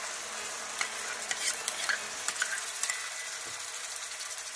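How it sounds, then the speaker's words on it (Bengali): A paste of tomato, ginger and green chilli fries in a pan over low to medium heat, giving a soft continuous sizzle broken by scattered clicks and scrapes of stirring, fairly quiet and with no voices. "এবার আমি টমেটো, আদা আর কাঁচা লঙ্কার পেস্টটাও এর মধ্যে দিয়ে দিচ্ছি"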